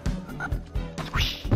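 Frogs croak in The Horde, a video game: a run of loud, rhythmic, low guttural croaks repeating about every quarter second, close and alone with no talking.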